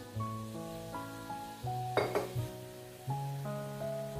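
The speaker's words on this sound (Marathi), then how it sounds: "ते वाटण चांगलं परतून घ्यायचं तेलामध्ये" Ground spice paste fries in oil for a sprouted moth bean curry, sizzling steadily under the clink and scrape of a spoon stirring in the pan.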